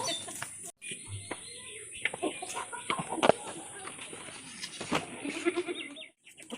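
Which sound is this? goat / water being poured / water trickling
goat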